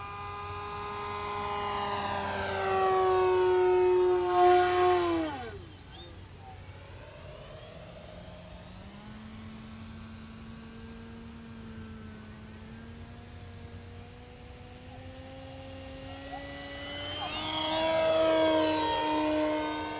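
An E-Flite S.E.5a 900mm electric RC model biplane drones overhead, its motor pitch rising loud as it passes near, fading to a distant steady hum, then swelling again on a second close pass.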